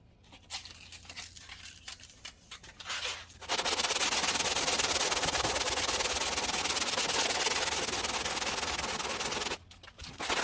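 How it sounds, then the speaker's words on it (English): Hand sanding body filler on a Ford Ranger with 80 grit paper on a long block: a few scattered rubbing strokes at first, then a loud, sustained rasping scrub for about six seconds before it stops, close by. "we're going to start with the 80 grit on the long block right here"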